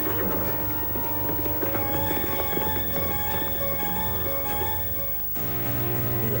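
Horse hooves clip-clop at a steady pace under a background of music, moderately close and continuous, with a brief dip near the end.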